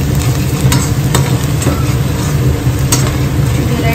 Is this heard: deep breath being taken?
no